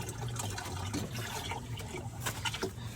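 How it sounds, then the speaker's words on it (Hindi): Water running along an outdoor channel, a continuous soft trickling and gurgling wash with small splashes, steady and moderately close, no voices. "ये चल रहा है पानी, ये देखिए"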